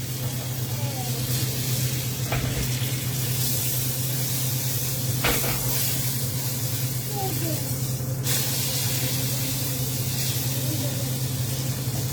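Pork ribs searing in a pan on the stove top, a steady loud hiss and sizzle running throughout beneath a low hum, with a few faint clicks and scrapes.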